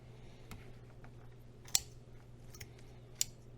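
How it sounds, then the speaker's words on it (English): Kitchen scissors snip at lobster gills with a few sharp, close clicks spaced irregularly, two of them louder, over a quiet steady hum and no speech. "just remove the gills with the scissors"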